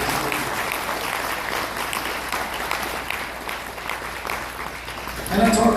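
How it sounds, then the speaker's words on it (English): A steady, dense wash of applause from a tribal gathering's audience, honoring an assistant chief, holds at even loudness throughout before a voice breaks in at the end. "let's give our assistant chief a big round of applause for his job"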